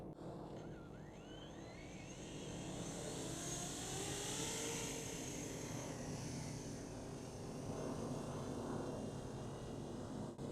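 Small electric motors on a radio-controlled VTOL model aircraft spool up to a rising, buzzing whine that climbs and holds at high pitch, fairly close and steady, with no talking.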